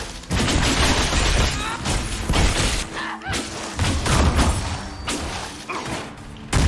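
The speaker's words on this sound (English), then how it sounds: "Let's hit him with a double energy barrage again" Double energy barrage attack in the video game Dragon Age: Inquisition, a dense run of loud, close magical blasts and thumps that fire in rapid volleys, with a faint voice beneath.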